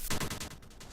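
A chain of erupting TNT blocks from the Too Much TNT Minecraft mod goes off in quick succession. Loud, close bursts crackle in a rapid, gunfire-like rattle for about a second.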